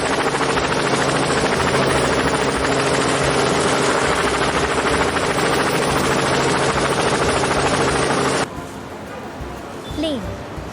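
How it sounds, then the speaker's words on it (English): A helicopter's loud, steady rotor chop and engine drone fills the air close by, then cuts off abruptly, leaving quieter ambient sound. "Helicopter."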